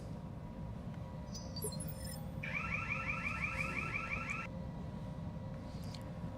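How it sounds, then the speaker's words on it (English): Electronic alarm from the BattleTech video game, a repeating tonal pattern that sounds for about two seconds over a steady low rumble of in-game ambience, moderately loud and alone. "I'm trying to mute those things as fast as possible on those alarms"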